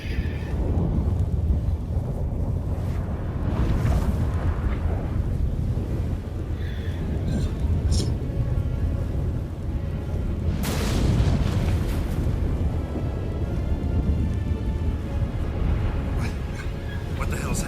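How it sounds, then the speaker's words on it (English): A storm gathering in The Witcher 3: Wild Hunt, with a steady roar of wind and rumbling low booms, including a loud thunderous crash near the middle, under game character dialogue. "That a storm?"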